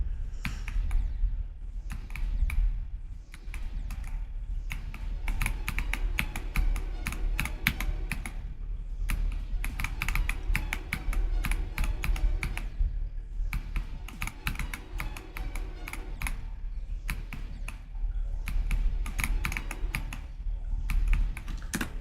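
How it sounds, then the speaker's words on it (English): Steady, fast typing on a computer keyboard, close and clear, with dense clacking keystrokes in bursts and brief pauses throughout, no voices. "I'll just type it myself, because I have a keyboard."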